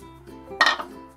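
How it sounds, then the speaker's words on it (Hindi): Washed lentils drop into a metal pressure cooker with one short, close clatter of dry grains against the pot, heard alone in a quiet kitchen. "सबसे पहले हम एक बर्तन लेंगे, यानी हमने कुकर लिया है, और उसमें हम धुली हुई दाल ये डाल देंगे"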